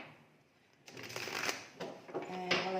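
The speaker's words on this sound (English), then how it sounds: "while I shuffle" Holographic mandala tarot cards are shuffled up close. After a quiet start, a run of crisp riffling, slapping bursts follows with brief pauses between them.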